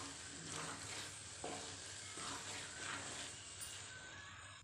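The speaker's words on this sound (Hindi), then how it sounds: "अब घी के अंदर गाजर के हलवे को हमें 3-4 मिनट तक भून लेना है।" Grated carrot halwa is stirred and roasted in ghee, a continuous sizzle and fry broken by rhythmic scraping strokes of a spoon against the pan, close and fairly loud.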